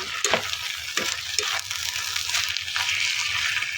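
Ingredients for labong with chicken and saluyot are sautéed in a pan. A steady, close sizzle and fry continues throughout, with a few brief stirring scrapes and clinks and no voices.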